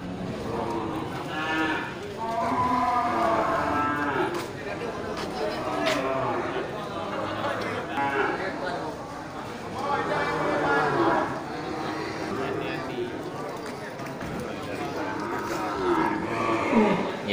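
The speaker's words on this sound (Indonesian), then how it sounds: "di depan kita ini juga satu indukan dengan pedetan jantan ya. Sapi Aceh." Aceh cattle, a cow with her male calf, giving repeated long moos at close range, some overlapping, with a person talking at times between them.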